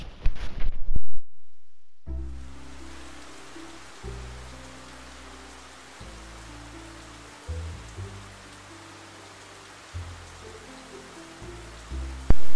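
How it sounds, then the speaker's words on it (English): Steady rainfall in the video game WORLDEND SYNDROME hisses evenly and continuously, with soft low background music pulsing beneath it after a brief quiet start. "The weather report says it'll rain all week. Cool, I get to hear this all the time."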